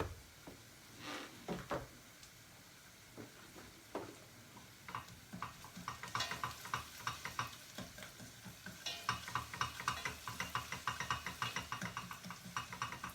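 Tomato paste sizzles in a pan over onions while a spoon stirs it, quiet frying crackle with scraping strokes that grow busier and more rhythmic toward the end.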